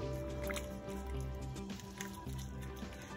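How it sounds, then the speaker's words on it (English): A spoon stirs a pot of meat soup with cream, producing wet squishing, sloshing and dripping sounds in an irregular rhythm, close up under a faint steady hum, with no talking. "And you just kind of stir it around."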